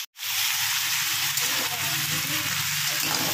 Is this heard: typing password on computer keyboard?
no